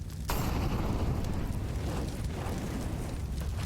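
Grenade blast in a Counter-Strike match on Dust2: a sudden loud burst that becomes a sustained, dense roar and rumble, filling the whole clip with no voices over it.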